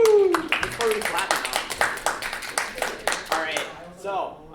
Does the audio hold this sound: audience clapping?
yes